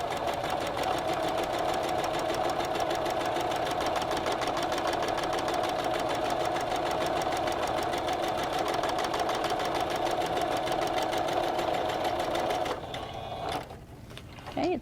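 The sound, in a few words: sewing machine single-stitching a quarter-inch seam on a mask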